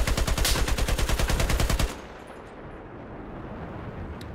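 Rapid burst of gunfire in Battlefield 4 during a sniping exchange, loud close repeated shots in a fast steady rhythm for about two seconds, then cutting off to a low ambient rumble of the battlefield.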